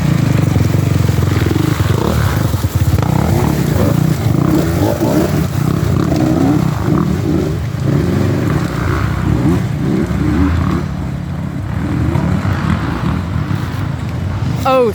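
Dirt bikes racing in an extreme enduro event, engines roaring and revving continuously at close range, with a steady loud drone that rises and falls as riders climb, and faint voices underneath.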